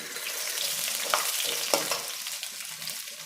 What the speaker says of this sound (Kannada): ಹಾಗೇ ನಾವು ಒಂದು ಸ್ಪೂನ್ ಉದ್ದಿನಬೇಳೆ ಬೆಳ್ಳುಳ್ಳಿನ ಹಾಕ್ಕೊಳ್ತಾ ಇದ್ದೀನಿ